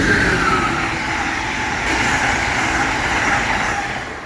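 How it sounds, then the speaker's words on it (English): A fast bullet train rushes past close by with a loud, steady roar of wheels and airflow that fades slightly toward the end, with no voices. "fast bullet train, man."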